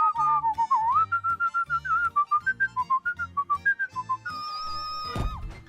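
A person whistles a short, wavering tune in choppy notes over a soft backing beat, ending with a higher sustained whistle and a sudden thump.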